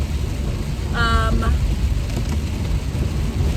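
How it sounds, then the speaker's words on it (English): Heavy rain falls steadily and loudly throughout, a dense, even hiss with no break, with a brief tonal whine rising above it near the middle. "It's raining hard again."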